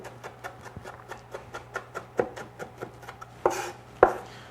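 Knife chopping jalapenos on a cutting board, a quick even series of crisp taps that grow louder and sharper toward the end, with no voices.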